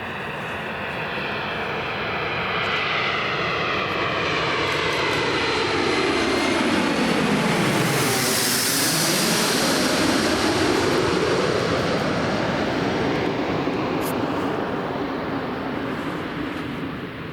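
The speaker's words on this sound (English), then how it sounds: "So our first aircraft for part 2 is a Bombardier Challenger from Farnborough." A Bombardier Challenger business jet lands at Newcastle Airport. The whine rises as it approaches, peaks loudly as it passes close overhead, then its pitch drops and fades slowly into the distance.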